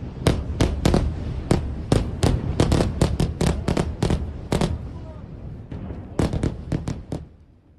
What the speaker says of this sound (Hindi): बेरूत की बात कर लें तो यहाँ एयरपोर्ट के पास भीषण विस्फोट हुआ जिसकी धमक सुनाई दी इन तस्वीरों में भी।